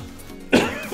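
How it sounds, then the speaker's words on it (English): A single sharp cough from a man, close and sudden, breaking into quiet background noise halfway through. "I got a small cough"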